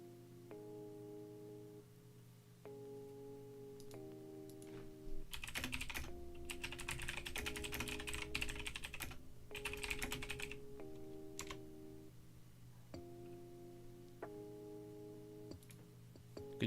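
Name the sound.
loud typing on a computer keyboard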